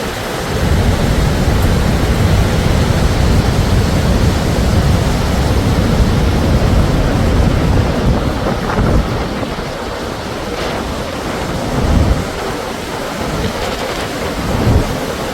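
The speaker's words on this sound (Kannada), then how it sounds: "ಗೋಕಾಕ್ ಹತ್ರ ಇರುವ ಜಲಪಾತದಲ್ಲಿ ಮಳೆ ಇನ್ನೂ ಹೆಚ್ಚು ಬರ್ತಾ ಇದೆ" Heavy rain pours without a break near a waterfall close to Gokak. It forms a dense, loud, steady roar lasting throughout, with occasional deeper swells. No voices are heard.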